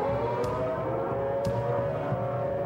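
Civil defense tornado warning sirens during a tornado, a steady droning wail held at even loudness throughout, with faint bursts of noise on top.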